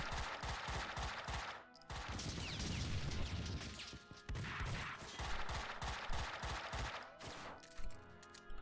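Dense video-game gunfire from Max Payne 2: rapid bursts of automatic shots and crashing impacts, loud and close, with short pauses between volleys over a constant game background.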